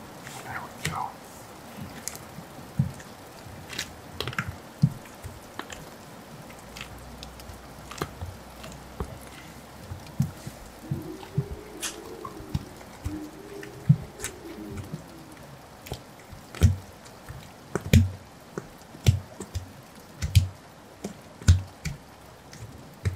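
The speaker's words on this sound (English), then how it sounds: "Solution is doing its work. I hear the popping" Ear wax removal solution fizzing inside an ear in an ASMR exam, with faint crackling pops, soft squishy clicks and scattered drips close to the microphone over a quiet background.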